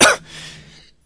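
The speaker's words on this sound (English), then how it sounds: "my throat was just starting to act up a bit. And I just started to cough" One sharp, loud cough bursts out close to the mic, then trails into a softer, breathy throat clearing that fades to silence.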